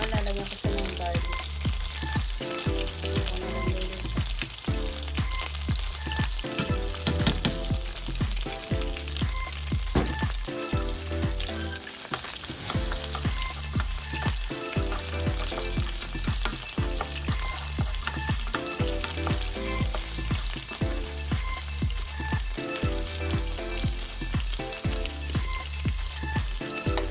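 Garlic frying in a pan alongside golden-browned chicken for honey garlic chicken, a loud continuous sizzle with crackles, popping and occasional stirring scrapes, close-up and lasting throughout.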